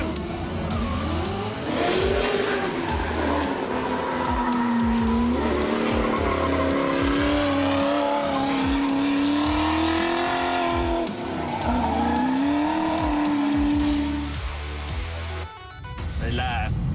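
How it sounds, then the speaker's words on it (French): Tires squeal in long, wavering howls as a Nissan drifts at the Autodrome Saint-Eustache track, its engine roaring underneath, sustained for most of the clip before cutting off near the end. "On va drifter ça un peu."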